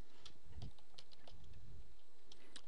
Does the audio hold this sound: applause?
no